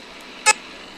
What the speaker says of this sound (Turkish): Korna sesimiz.